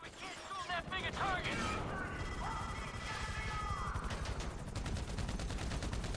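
Rapid gunfire in Grand Theft Auto V, bursts of automatic shots with mechanical clatter and crashes over a dense game soundscape, heard under a player's voice.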